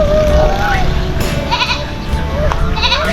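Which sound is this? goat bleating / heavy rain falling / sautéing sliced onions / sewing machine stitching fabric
goat bleating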